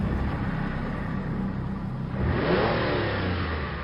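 A car surges forward through heavy rain at night, its engine rising into a fast rumbling acceleration over a dense, constant wash of rain and wind.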